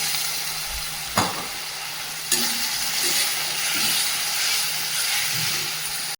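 Spiced masala of turmeric and Kashmiri chilli powder sizzles steadily and loudly in hot oil after a splash of water, with a couple of sharp stirring knocks against the pan over continuous frying hiss.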